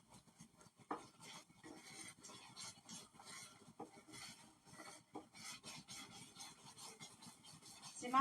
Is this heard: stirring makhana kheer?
yes